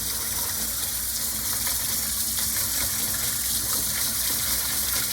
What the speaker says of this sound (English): Warm water, we're just gonna give it a nice rinse.